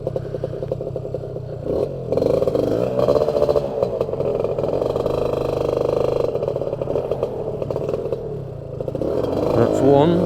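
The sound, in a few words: engine dropping to idle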